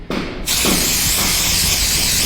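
A loud, close hiss of a spray can blasting continuously after a brief start, steady and sharp for a couple of seconds, spraying treatment onto a cow's infected hoof.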